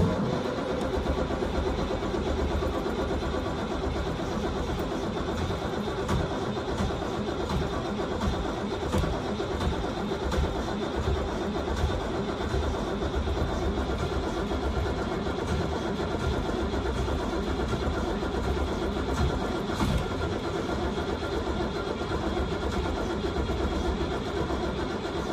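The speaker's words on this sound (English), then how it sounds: "Drink that gas all up, Carolyn, and let me hear that engine roar." A school bus engine runs steadily and loudly for a long stretch, a continuous rough mechanical rumble with slight fluctuations, as if cranked and then idling.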